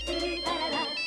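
Mobile phone ringtone ringing indoors in a Hindi sitcom scene, a steady melodic electronic tone with bright repeating notes lasting about a second, fairly clear with no talk over it.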